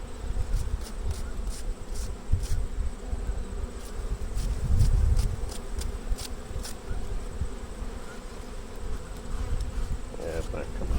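Honey bees buzz steadily throughout during beekeeping work, a dense close-up drone with low rumbling handling noise and brief higher swells as insects pass near.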